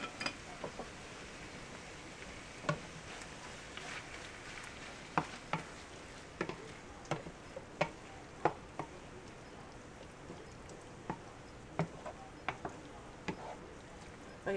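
Picadillo stirred together with jarred spaghetti sauce in a pan, a steady low sizzle broken by irregular sharp clicks and scrapes of the spoon against the pan, close and fairly quiet, with no one talking.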